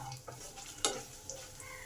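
Chana dal frying in oil in a pan over low heat for a leftover-roti pulao: a soft, steady sizzle throughout, broken by one sharp spoon scrape near the middle.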